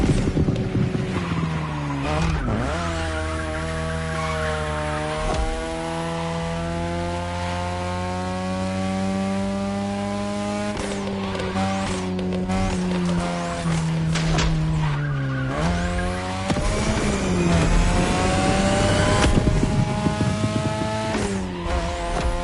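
Race car in The Crew Motorfest, its engine droning and revving steadily through gear changes while tires squeal and skid repeatedly, loud and close throughout.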